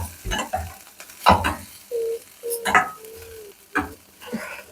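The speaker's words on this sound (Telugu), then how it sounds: "దొండకాయలు వేగుతున్నాయి" Chopped ivy gourd (dondakaya) frying in a pan: bursts of stirring clatter and sizzle come in uneven spurts, with short steady beeping tones in between.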